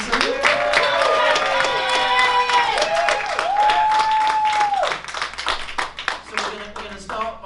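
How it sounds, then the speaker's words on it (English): An audience at an illustrators' society event claps for a guest, with steady applause running beneath a man's amplified speech and tapering into scattered claps toward the end. "And a big cheer for the legend that is Klaus Janson."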